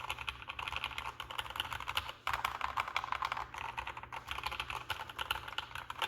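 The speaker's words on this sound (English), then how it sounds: "sound from the keyboard is really good, and the typing experience has been good as well" Rapid typing on a Symfuhny x Matrix 65% mechanical keyboard, with dense, continuous clicky keystrokes at close range, a brief pause midway, then steady typing again, all fairly quiet.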